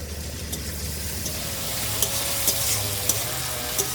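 Onion and garlic with a pinch of salt sizzle and fry steadily in a pan, a continuous crackling hiss with a few louder stirring scrapes and taps, close by with no talking.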